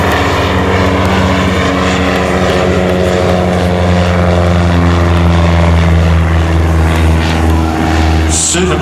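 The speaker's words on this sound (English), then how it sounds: "That particular aircraft is a Canadian Vickers-built Canso." A Canadian Vickers-built Canso flying overhead at an air festival, its piston engines giving a loud, sustained propeller drone with steady low harmonics that holds throughout, and a faint voice briefly underneath.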